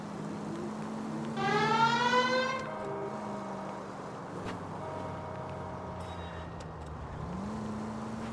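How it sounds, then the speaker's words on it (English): A police car siren in the L.A. Noire video game winds up in a loud rising wail, then settles into softer sustained tones over steady engine rumble and background noise. "Please, Phelps, the siren."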